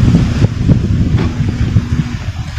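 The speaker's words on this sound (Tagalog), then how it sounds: "Sobrang hangin dito." Strong wind roars and gusts against the microphone, a continuous low rumble swelling and easing with no voices.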